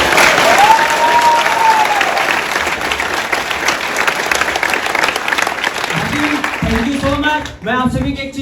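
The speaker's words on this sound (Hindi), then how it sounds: "मेरी मम्मा के लिए एक बार जरूर जोरदार क्लैप" Loud, sustained applause from an audience honouring the speaker's mother at a club award event for a newly promoted manager, a dense wash of clapping that fills the whole stretch before voices and speech rise near the end.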